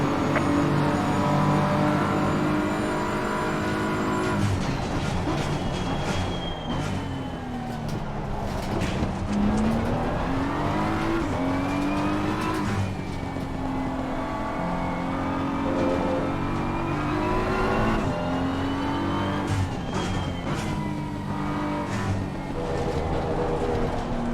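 A BMW race car in a racing video game slides through a turn, engine revving and whining up and down continuously with loud tire and motor noise, no speech.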